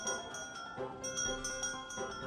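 A farm bell rung to call livestock in the Harvest Moon: Deine Tierparade video game gives a series of bright, ringing strikes over steady game music.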